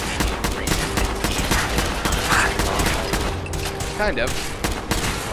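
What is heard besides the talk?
assault rifle gunfire in video game Fallout 4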